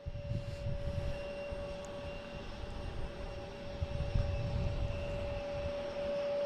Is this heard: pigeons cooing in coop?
no